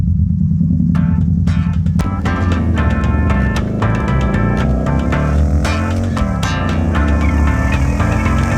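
Steady loud throbbing of a bobber-style project motorcycle engine while riding, a continuous low rumble with wind buffeting and rising and falling revs across the ride, with no talk.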